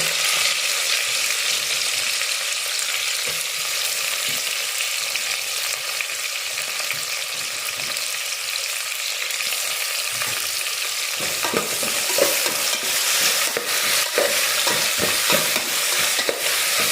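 Onions fry in hot oil with curry leaves and chillies, a steady sizzle running throughout, with scraping stir strokes getting busier toward the end and no voices.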